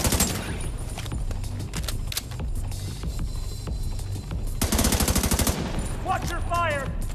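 Rapid bursts of automatic gunfire in the shooter game The Division 2, loud and near, with a dense fusillade building toward the end over a low mechanical hum and brief voice lines.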